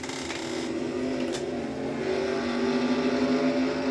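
Sports cars accelerating away at the green flag of a Castrol Edge Nationwide Series race at Mid-Ohio Sports Car Course, a dense layered engine roar heard from a distance that grows steadily louder.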